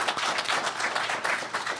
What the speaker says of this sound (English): Please help me with a round of applause.